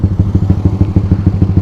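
A Honda CBR 150 motorcycle fitted with a GP1 exhaust idles with a loud, close, steady, rapid thumping pulse from the exhaust.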